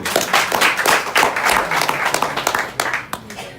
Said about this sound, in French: au moins un super public, applaudissez pour vous-même, s'il vous plaît